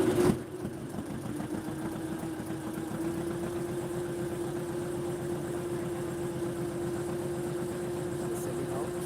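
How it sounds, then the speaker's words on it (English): Motorboat engine running on a Sundarbans mangrove waterway cruise, a steady low droning hum with an even pulse, after a brief knock at the start. "Motorboat has started."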